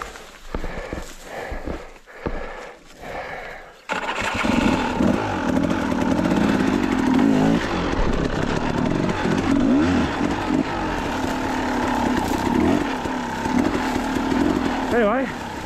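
A motorcycle engine droning steadily while riding, loud and close with rising and falling revs, wind noise over it and a person talking over the ride.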